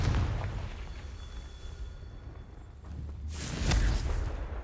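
The Confringo fire spell in Hogwarts Legacy bursts in a single loud, booming explosion near the end, after a stretch of low rumbling ambience.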